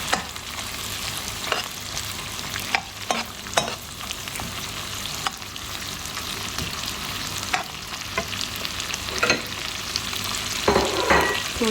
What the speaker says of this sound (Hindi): ड्राई फ्रूट को थोड़ा सा जो है वो फ्राई करेंगे ज़रा सा